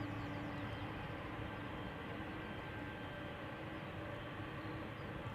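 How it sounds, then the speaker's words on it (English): A Boeing 747-400 freighter, 22 years old, at Amsterdam Schiphol Airport, gives a steady, loud broadband engine roar that holds evenly throughout with no break, up close. "This is a Boeing 747-400 freighter."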